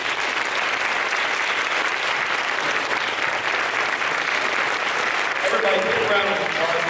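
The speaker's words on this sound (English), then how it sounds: "Everybody, big round of applause for Mandisa." Conference audience giving a speaker a big round of applause, steady dense clapping that holds throughout at full strength, with a voice starting to come through near the end.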